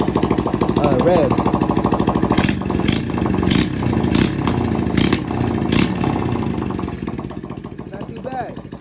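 Small drift trike engine running with no exhaust pipe, a loud rattling close-up chug that flutters and revs slightly, with a few sharp metallic clanks mixed in partway through.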